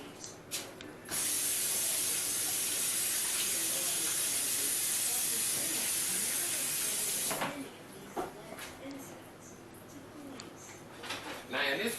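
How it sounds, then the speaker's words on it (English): A kitchen tap runs for handwashing while turkey meatballs are being prepared, giving a loud, steady hiss for about six seconds. It then cuts off, leaving soft clatter and splashing. "Wash my hands."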